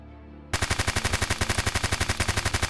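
Loud, rapid automatic fire from an AUG rifle in the video game Apocalypse Rising 2 starts abruptly after a short quiet lead-in, then runs as a steady, evenly spaced string of roughly a dozen close shots with no talking.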